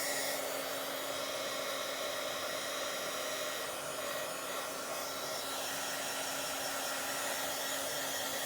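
A hair dryer blows steadily on a painted Bible journal page, a loud, close, continuous whir with a fixed hum, running alone the whole time.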